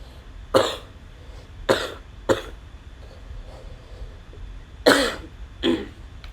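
A person coughs five times in separate sharp bursts that are spread unevenly across a few seconds. The coughs are close and moderately loud over a quiet background, with no speech.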